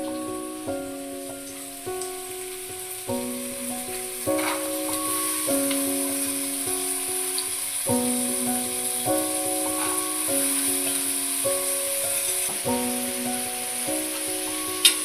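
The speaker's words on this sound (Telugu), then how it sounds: "పచ్చిమిరపప్పు వేసాక ఒక 5 నిమిషాలు వేగేస్తుంది" Soaked dal fries in a deep pan while coconut rice is being made. A steady, close hiss of sizzling runs the whole time beneath a sustained melodic music track, with no talking.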